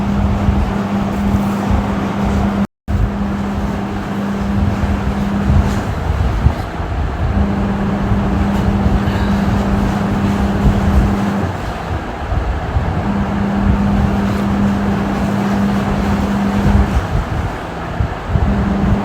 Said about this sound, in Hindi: बैकग्राउंड में वॉशिंग मशीन की आवाज़ आ रही है